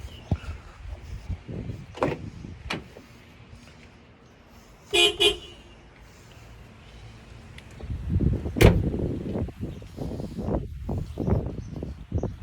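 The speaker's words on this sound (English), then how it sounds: "I'll just go and honk the horn once or twice" A short double honk of a car horn sounds outdoors around mid-clip, amid faint rustling and thumps, followed by rumbling movement noise.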